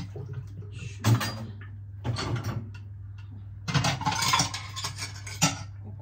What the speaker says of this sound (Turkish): Kaşıklar bir kez daha yıkansın.